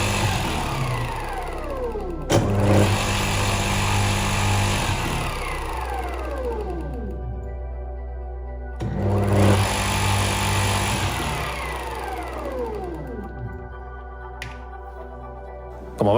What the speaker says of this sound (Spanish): si lo conectamos a la red eléctrica, se enciende como haría cualquier motor